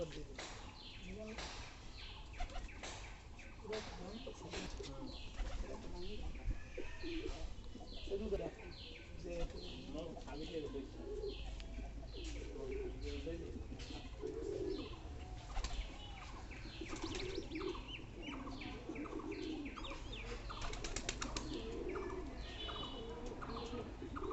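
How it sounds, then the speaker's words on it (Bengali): Five pigeons gathering near coconut trees, with repeated soft cooing and bursts of flapping wings over steady outdoor background noise and occasional chirps, continuous and moderately close throughout. "এই পাঁচটা কবুতর আসছে এখানে"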